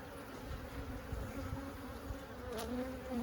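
Honey bees buzzing around an open beehive, a constant droning hum close by with a louder pass near the end, no voices over it.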